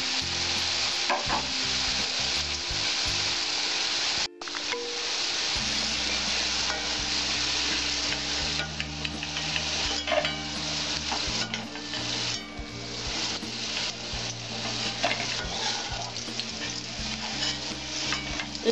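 Potatoes fry with a steady loud sizzle while being stirred in a pan, scraping strokes recurring throughout, during preparation of a Bengali drumstick flower ghonto.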